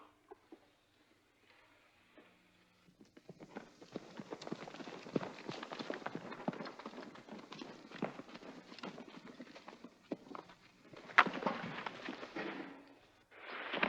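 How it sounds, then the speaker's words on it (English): Horse hooves clip-clopping on a Western frontier setting, starting faint then growing into a busy, uneven patter of steps at moderate distance, with a sharper clatter near the end. "What a horse."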